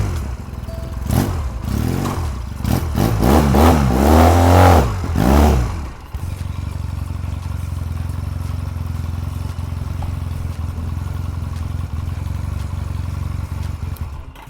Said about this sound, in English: I'm gonna go for a quick spin.